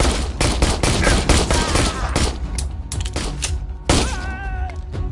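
Rapid gunfire in the VR horror shooter Immortal Legacy ending in a headshot, a close burst of sharp repeated shots followed by a louder single impact and a brief ringing tone.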